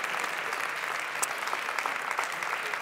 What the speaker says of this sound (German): Der Applaus darf ruhig für unseren ersten Sieger ein bisschen länger sein.